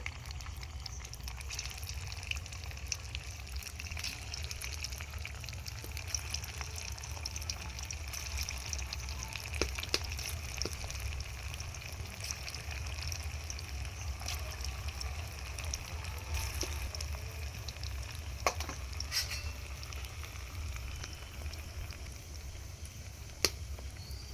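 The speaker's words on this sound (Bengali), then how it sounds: "তেল ভালো করে গরম হয়ে গেছে, আমি এবার মুইঠাগুলো এক এক করে ছেড়ে দেবো" Soybean muitha dumplings sizzle steadily in hot oil on low heat, a soft continuous frying hiss with occasional faint pops and clicks, quiet and without talk.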